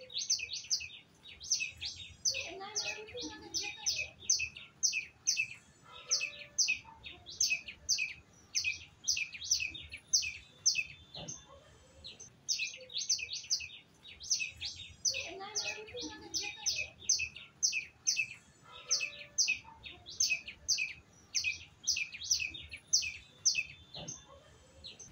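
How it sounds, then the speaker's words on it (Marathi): Birds chirping in dense trees beside a river, a steady, busy chorus of high repeated tweets and trills running continuously throughout, fairly close and without talk. "त्या पक्ष्यांचा किलबिलाट तुम्हाला ऐकायचा आहे."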